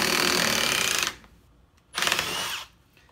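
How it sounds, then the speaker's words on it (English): A Milwaukee Surge hydraulic impact driver runs in two loud bursts, about a second and under a second long, with a quiet gap between them. "I'm gonna use my Surge impact hydraulic driver here first"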